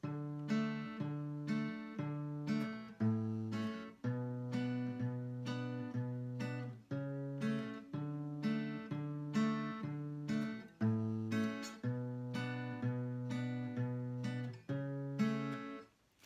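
Strummed acoustic guitar chords of a song's chorus repeat in a steady rhythmic pattern, each strum ringing and decaying, played alone at moderate volume.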